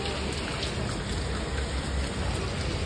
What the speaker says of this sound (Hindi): बारिश हो रही है झमाझम